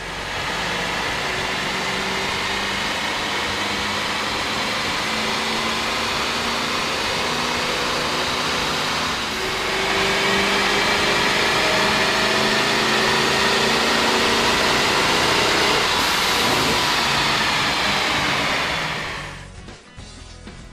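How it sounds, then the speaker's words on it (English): A GMC Sierra pickup's 6-liter engine, fitted with a K&N air intake, runs on a dyno with a steady loud drone that swells slightly near the end before cutting off. "With the air intake installed, we ran the vehicle on the dyno to test the sound comparison versus the stock intake."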